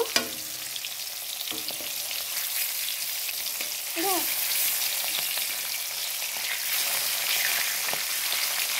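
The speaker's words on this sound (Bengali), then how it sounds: "মাছগুলো আমি ভাজা করে নিব" Loud, steady crackle and sizzle of catla fish frying in oil close by, with occasional scraping of a utensil and no talking.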